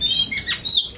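A caged songbird calls with thin, high whistled notes and brief chirps, close and fairly clear, with no voices.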